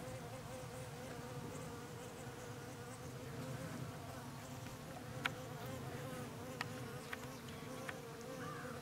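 Honeybees, including a few large drones, buzz steadily in an open hive, a dense close hum that holds without letup, with a few faint clicks near the end and no talk.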